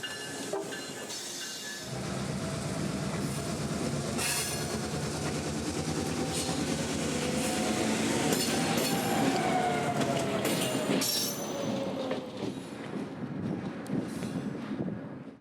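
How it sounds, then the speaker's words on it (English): A CSX local freight train with three empty cars rolls past near the port of Tampa, its steady rumble and clickety-clack of wheels over rail joints loud and close, with hiss and occasional faint squeal over the continuous passage. "the train soon emerged with 3 empties bound for Tampa"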